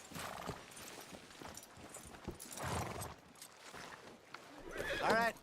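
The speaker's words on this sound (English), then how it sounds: "Are you gonna mount that new horse of yours or not?" A horse in Red Dead Redemption 2 lets out a loud whinny near the end, after a stretch of soft hoof clops and faint ambient movement.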